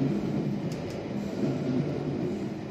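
A London Underground Piccadilly line train runs above ground in North London, giving a steady rumbling roll of wheels and carriage with a faint high squeal or two, heard from inside the carriage.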